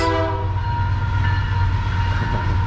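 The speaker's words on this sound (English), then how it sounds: "Train." A train horn blares at the start, then fades into the heavy, steady rumble of a train rolling past nearby.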